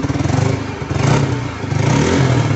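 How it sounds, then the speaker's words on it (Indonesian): A motorcycle engine runs steadily close by after its dead battery has been revived, a loud continuous idle with a slight rhythmic chug and no voices over it. "Nah, ini sekarang posisi motor hidup."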